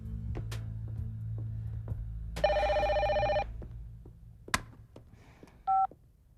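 A telephone number is dialed, a few short tone beeps and a longer tone burst sounding over a low background hum, with clicks of handling between them.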